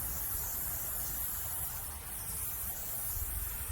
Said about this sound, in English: And I'm going to spray it white.